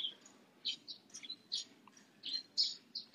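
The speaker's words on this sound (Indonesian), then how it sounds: "Kalau pagi-pagi tuh di sini emang begitu banyak burungnya." Many birds sing in the morning, their quick high chirps and whistles popping out one after another in an uneven rhythm, fairly close and clear over a soft background.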